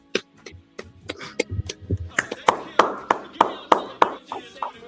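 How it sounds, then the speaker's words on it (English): A small group claps in sharp, separate strokes that start sparse and settle into a quicker, fairly regular rhythm, close and distinct, with a voice talking underneath. "give them a round of applause"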